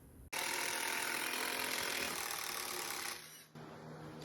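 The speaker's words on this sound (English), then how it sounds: "we are screwing in the motor bracket with actual big bolts this time" A ratchet drives big bolts into a jet ski motor bracket, producing a rapid, continuous, close metallic clicking that runs for a few seconds, briefly stops, then starts again.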